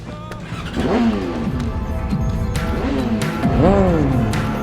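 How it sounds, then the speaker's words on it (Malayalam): A motorcycle engine in the video game Sleeping Dogs revs, rising and falling in several bursts, a whine climbing in pitch, with faint voices underneath. "ബൈക്കിന് സൗണ്ടൊക്കെ കൊള്ളാം."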